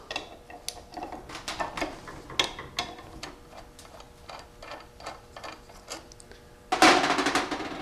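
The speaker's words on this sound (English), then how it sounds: "these bolts have half-inch heads on them. We'll get those off." Rapid ratchet-wrench clicking while half-inch bolts come off a Powerglide transmission pump in a drag-race build, bursts of sharp close ticks in uneven runs, then a louder metallic clatter near the end.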